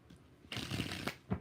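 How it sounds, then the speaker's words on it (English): A tarot deck is shuffled by hand in close, crisp rustling bursts: one longer riffle, then a few short flicks and taps, with no talking. "4 shuffles for Gracie."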